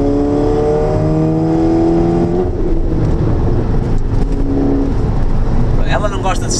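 An Audi TT engine revs up under acceleration, its note rising steadily in pitch through the first half and then settling into a loud, sustained drone, with a voice speaking over it.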